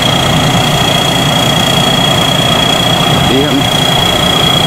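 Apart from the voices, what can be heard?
six-wheel rice combine harvester engine running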